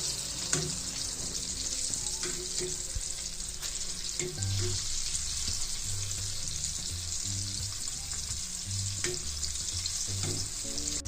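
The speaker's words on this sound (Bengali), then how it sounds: "চিকেন ফ্রাইগুলো মধ্যম আঁচে ভাজতে হবে।" Chicken pieces frying in oil over medium heat, a steady, close sizzle that continues throughout with occasional soft stirring clinks and no talking.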